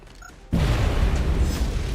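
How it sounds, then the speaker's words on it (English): A grenade explosion in the strategy game XCOM Long War hits suddenly with a loud, deep boom, then rolls on as a sustained rumbling blast. "Wow, that was great explosions."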